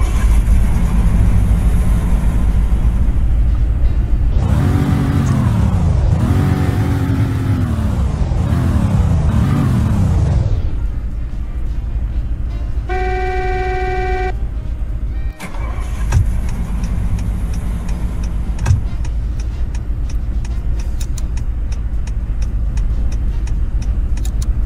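A 2.8-litre V8 car engine sound fires up and revs hard several times in quick succession, then settles into a low idle with a brief electronic beep.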